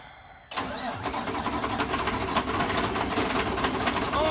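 A truck engine cranks briefly and catches, then settles into a steady, rumbling idle close by, with no talking.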